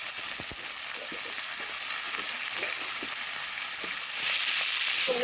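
Cut cauliflower florets fry in a hot pan with a steady, close crackling sizzle and light stirring taps. The sizzle grows slightly louder toward the end.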